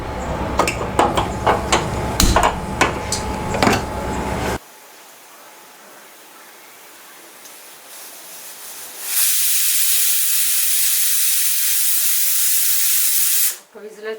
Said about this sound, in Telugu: విజిల్ వచ్చింది.